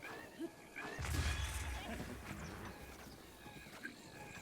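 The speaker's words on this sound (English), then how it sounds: "There's a goblin on a horse." Hoofbeats from a horse galloping in Zelda: Breath of the Wild, a goblin rider nearby, a burst of heavy thudding clatter early on that thins into a lighter, steady patter with game ambience and a few sharp knocks.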